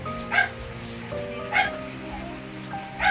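A dog gives three short, sharp barks spaced about a second apart, fairly close and loud, over a steady background hum.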